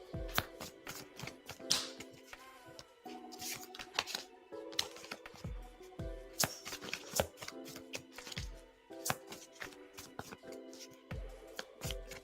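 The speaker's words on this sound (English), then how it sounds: "I'm shuffling for you now." Tarot cards being shuffled by hand, with repeated bursts of crisp riffling and soft card slaps in an uneven rhythm, close and fairly quiet, with no talking.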